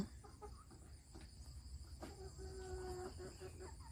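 Egg-laying chickens kept on a small Thai family farm cluck and call nearby over a steady background of insects and outdoor ambience, with one drawn-out cluck standing out.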